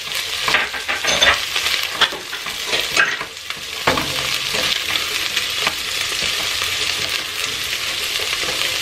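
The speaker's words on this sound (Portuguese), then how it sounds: "eu vou acrescentar aqui uma cebola. Vou deixar ela fritar junto, ó." Onion fries together with bacon in a pan, a continuous loud crackling sizzle with occasional stirring scrapes, heard close and alone.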